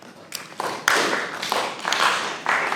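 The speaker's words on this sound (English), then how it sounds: "What about some sort of clap, a nice with a bit of resonance in?" An audience at a music panel discussion clapping softly in a resonant room, a scattered wash of many hand claps swelling in loose waves rather than a single rhythm.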